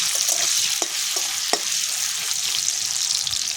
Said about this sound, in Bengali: আলুগুলো লাল লাল করে ভেজে নিতে হবে।